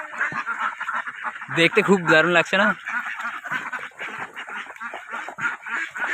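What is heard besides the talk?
ducks quacking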